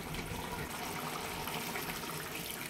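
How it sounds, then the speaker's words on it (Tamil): A small amount of water is poured into a pot of chicken gravy to help the chicken cook, producing a dense, even splashing gush that holds steady throughout at moderate loudness. "நம்ம சிக்கன் வேகத்துக்காக கொஞ்சமாக தண்ணி ஊற்றிக்கலாம்."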